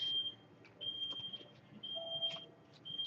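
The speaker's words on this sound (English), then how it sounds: "There's the darn beeping." An indoor alarm chirps with high, thin beeps that repeat about once a second, steady and moderately loud in a quiet room.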